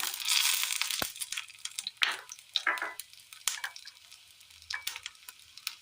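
Dried red chilies dropped into hot oil after mustard seeds have popped, while tempering for an amla (gooseberry) thoran, crackling sizzle with sharp pops and bursts, close and fairly faint, with no talk.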